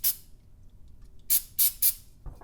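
Silicone spray hisses in short bursts: one at the start, then three quick sprays in a row after a pause, followed by a faint clunk.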